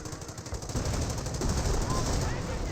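Rocket artillery barrage in the World War II strategy game Company of Heroes, heard as a dense, continuous roar of rapid launches and impacts that swells louder partway through, with commentator speech running over it.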